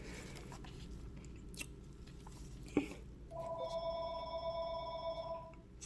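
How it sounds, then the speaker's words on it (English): A telephone rings faintly with one steady electronic tone sounding over a roomy background hiss, after a soft click. "Oh, there goes the phone."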